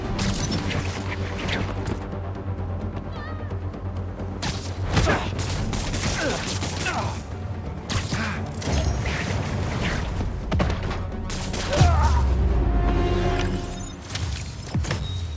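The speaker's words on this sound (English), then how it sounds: "Tossing grenade!" A grenade goes off in the Spider-Man 2 video game as a loud, booming burst near the end, amid a busy layer of clattering combat effects and crashes.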